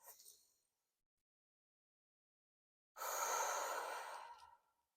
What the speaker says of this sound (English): And just taking a breath here.